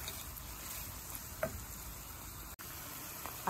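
Chopped onion sautéing in a pan makes a steady, faint sizzle with light crackles and occasional soft pops, without anyone speaking.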